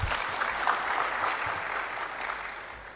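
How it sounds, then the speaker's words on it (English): Audience applause at a national health and human rights conference in Uganda, with many people clapping steadily together for a speaker, full at first and tapering gently toward the end. "Another round of applause for Emmanuel."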